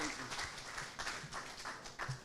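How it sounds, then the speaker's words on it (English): A fairly faint audience at a Terrebonne community gumbo event applauds Miss Margie Scobie with scattered, uneven clapping, the individual claps somewhat distinct and moderately distant, with a few voices mixed in. "another round of applause."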